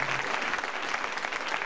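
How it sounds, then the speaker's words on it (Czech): Concert audience at a SČF Teplice show in Plzeň applauding for Pavlínka, a steady dense wash of clapping filling the whole moment without a break. "Zatleskujte Pavlínce"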